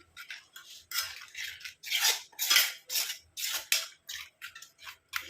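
Henna paste is stirred in a bowl with a utensil, giving a run of close, rhythmic wet scrapes and clinks against the bowl, separated by brief pauses.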